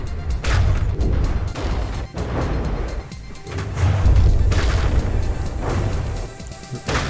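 Ship guns fire in a Brawlership battle video game, with repeated booming impacts and crashes thudding over a dense rumbling background.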